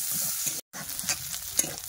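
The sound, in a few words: chopped onion and dried chilli frying in a wok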